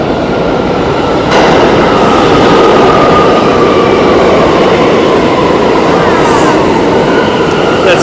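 A train rumbles loudly and steadily past, wheels clattering on the rails, with a faint high squeal partway through.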